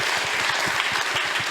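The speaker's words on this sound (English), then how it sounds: "Give him a warm applause." Warm audience applause at a Q&A after a film screening at De Balie in Amsterdam, steady and dense throughout the short stretch, a full room clapping together at even loudness.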